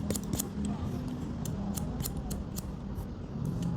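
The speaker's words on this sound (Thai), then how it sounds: "ยกขึ้นแล้วตัด ตัดแห้งๆให้ลูกศิษย์ได้ดูบ้าง" Scissors snip through dry hair during a Thai salon haircut demonstration, giving a steady run of crisp, close metallic clicks and shears over a soft background hum, with no voices.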